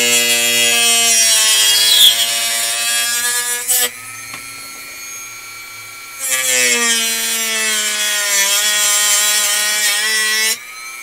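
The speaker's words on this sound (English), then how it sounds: "I think this actually is going to need to start working with the sanding drum." A spinning sanding drum shaping a workpiece during a live build, loud whirring passes with harmonic tones that stop abruptly for a pause around the middle, then resume before cutting off near the end.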